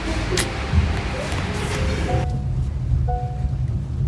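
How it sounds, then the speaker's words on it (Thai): Steady rain falls on a surface as a continuous dense patter, fairly close and moderately loud, with faint tonal background sounds and no talking. "ฝนตกด้วย"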